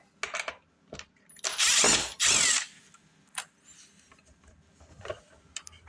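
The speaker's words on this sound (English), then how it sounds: "We're going to be removing the Phillips screw here" Power screwdriver backing a Phillips screw out of an LG dishwasher, two loud whirring bursts amid clicks and clatter from handling parts, close up and without speech.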